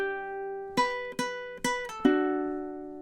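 Ukulele plays a measure from a song, a held ringing chord followed by four clear plucked notes at a moderate, even pace, close and alone with no voices.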